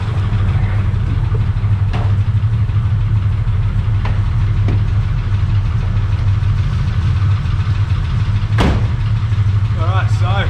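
Engine of a drift build car runs steadily, a loud, continuous low rumble close by with a few faint clicks and knocks. A voice can be heard over it.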